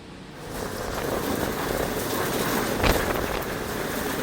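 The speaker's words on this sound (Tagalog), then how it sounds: "patuloy pa rin tayo nakakaranas ng pag-ambon dito" Light rain drizzles steadily outdoors in Iba, Zambales in the dark early morning, a continuous close patter of drops with faint wind and a brief louder gust near the middle.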